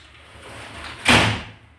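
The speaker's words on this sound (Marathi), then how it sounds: "तो दरवाजा लाव, तिथनं डासा येतात." A door swings shut with one soft thud after a short creak, close by in a home room, a brief muffled impact with faint room noise around it.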